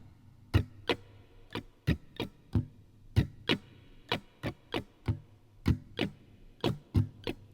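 Percussive acoustic guitar strumming for the intro of a song: sharp muted strokes in a steady, bouncy down-up rhythm with accented hits, close and alone without voice.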